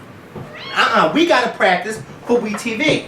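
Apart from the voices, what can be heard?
cat meowing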